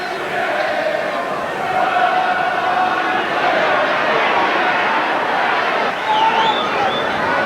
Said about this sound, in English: as the Kingston Rovers crowd get behind their team